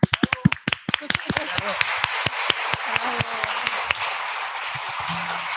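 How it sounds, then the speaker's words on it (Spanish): A few people clap on a podcast, starting with sharp, distinct claps close to the microphone that loosen into sparse, scattered claps before stopping, with light voices underneath. "un aplauso, por favor"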